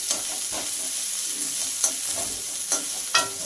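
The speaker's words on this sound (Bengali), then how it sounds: "দিয়ে পেঁয়াজটাও তেলের মধ্যে ভেজে নেব।" Chopped onion frying in oil after garlic, made while cooking drumstick leaves, a steady close sizzle with occasional sharper stir scrapes and spits.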